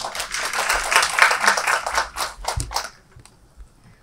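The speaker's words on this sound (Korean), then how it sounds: "큰 박수 부탁드리겠습니다" Audience applause at a Korean youth talent conference breaks out as a presenter is introduced, a dense patter of clapping that holds steady for about three seconds and then fades into near silence with a few stray claps.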